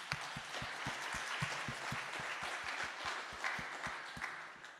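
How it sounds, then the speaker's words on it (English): An audience at a conference workshop breaks into applause, a dense wash of clapping with a few louder, evenly spaced claps near the microphone, held steadily for several seconds. "Let's give them a round of applause."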